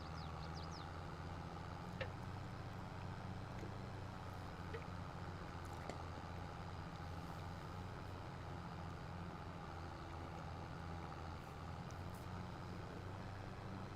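A tractor engine works a field on the Alma, Missouri map in Farming Simulator 22, giving a steady, unbroken low drone that stays close and constant throughout, with a few faint higher clicks over it.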